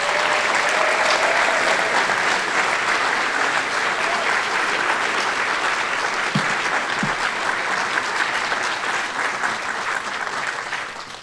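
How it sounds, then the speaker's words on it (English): An audience at a varsity awards ceremony and Hall of Fame induction applauds an inductee, with loud, dense, sustained clapping that holds steady for about ten seconds and then begins to fade. "Please join me in recognizing with a round of applause our next inductee, Erin McCrudden."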